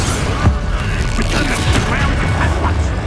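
Confringo fire spell blasting in Hogwarts Legacy, heavy booming bursts landing amid constant combat noise with voices mixed in.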